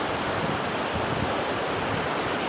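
Strong wind gusts across a wooden bridge, a steady loud roar of broadband rushing air buffeting the microphone close up throughout, with no voices.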